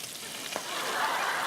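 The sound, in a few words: bacon frying in an iron skillet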